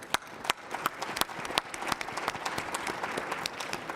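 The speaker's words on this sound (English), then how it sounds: "let's give them a round of applause" Audience applause for a panel at a 5G industry event, a dense burst of hand clapping with sharp individual claps standing out, steady and moderately loud throughout.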